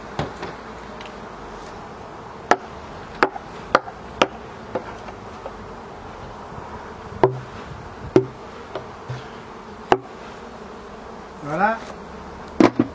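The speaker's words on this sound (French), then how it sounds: "là on se retrouve avec des abeilles plein de nourrisseurs, plein dessous" Honeybees buzz steadily around a hive stocked with feeders, a continuous low drone broken by sharp knocks and ticks from handling the equipment.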